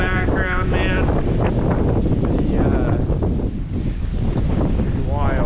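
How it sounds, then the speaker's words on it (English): Hurricane Milton's wind roars in a loud, constant buffeting rush against the microphone, with rain driven sideways, trees clanking nearby, and a voice faintly audible underneath. "it is windy. Rain's coming in sideways here."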